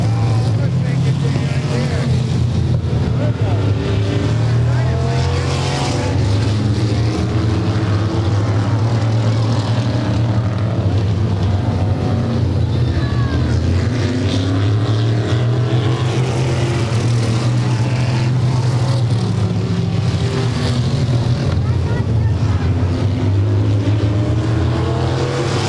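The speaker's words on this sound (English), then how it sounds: "Down the home stretch come your lead cars." Stock race cars roar around Claremont Speedway during a 1996 weekly race, a loud sustained engine drone that rises and falls as the cars pass, with an announcer talking over it throughout.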